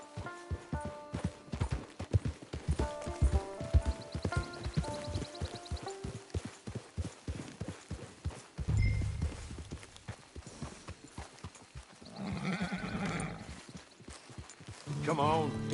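Horse hooves in Red Dead Redemption 2 Online clip-clop in a quick galloping rhythm alongside music, then give way to softer sounds and a brief whinny-like tone.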